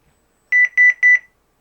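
A 1992 CareTaker Plus home alarm system gives three short, evenly spaced electronic beeps as a disarm warning. The tones are clear and loud in an otherwise quiet room.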